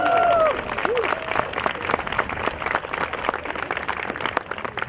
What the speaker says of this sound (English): So give all of us a round of applause